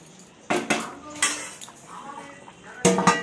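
Dishes and cutlery clink as lunch is served at home, with a few sharp, close metallic clatters in separate bursts and quiet pauses between them.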